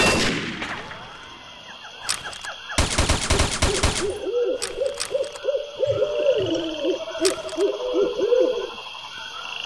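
Gunfire in the online shooter Combat Arms: a dense burst of rapid automatic shots around the middle, with scattered single shots and game effects, moderately loud, with no talk.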